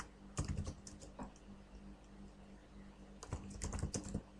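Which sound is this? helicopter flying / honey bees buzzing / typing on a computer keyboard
typing on a computer keyboard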